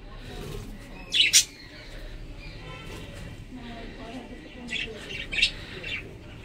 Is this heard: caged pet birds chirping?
yes